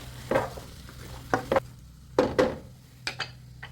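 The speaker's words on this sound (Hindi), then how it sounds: "तो बस अब इसको अच्छी तरह से हम कर लेंगे फ्राई" Chopped onions frying in a pan with a low steady sizzle, broken by several sharp spatula scrapes and stirring strokes at irregular intervals, close and fairly clear.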